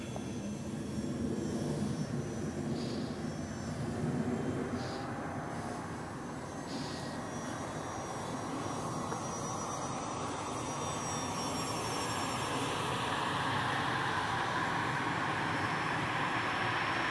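Steady, loud broadband roar of a Corvalis 350 single-engine aircraft climbing after takeoff, a continuous engine and wind drone that holds level throughout with no talking.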